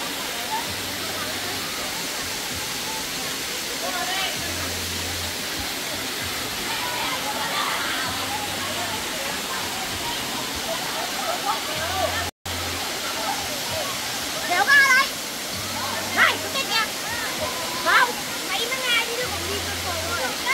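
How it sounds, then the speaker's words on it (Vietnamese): Cổng Trời waterfall at Thiên Sơn Suối Ngà in Ba Vì pours in a steady, broad rushing roar that fills the whole stretch, with voices talking over it toward the end. "thác cổng trời."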